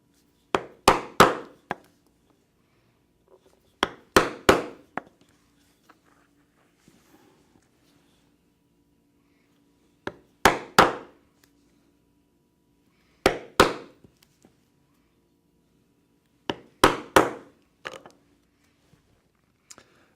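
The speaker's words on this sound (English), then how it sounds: "And now I will punch all of these holes with a 3/16 inch punch" A 3/16 inch punch is hammered through leather in sharp clusters of two to four blows, repeated five times with pauses between, loud and close in a quiet room.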